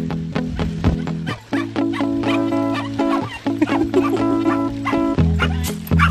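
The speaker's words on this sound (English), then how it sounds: "That was a wild dog." A wild dog barking near a recumbent trike ride, a rapid series of loud, close yips and barks with short gaps, fairly steady throughout with no talk over it.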